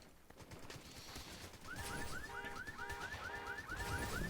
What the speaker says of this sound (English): His car alarms are going off.